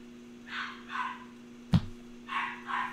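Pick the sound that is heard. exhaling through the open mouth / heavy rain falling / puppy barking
puppy barking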